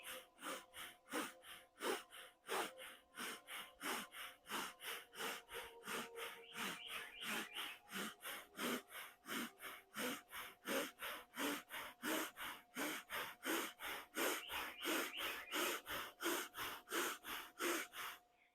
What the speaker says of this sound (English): we're going to start with breath of fire.